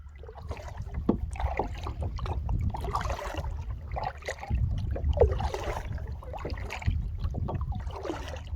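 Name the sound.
paddling a kayak on a lake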